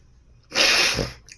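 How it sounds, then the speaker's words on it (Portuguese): One close, loud sneeze bursts out sharply and fades within about a second, with quiet around it. "Às vezes eu preciso parar para espirrar, porque fica muito feio ficar espirrando aqui."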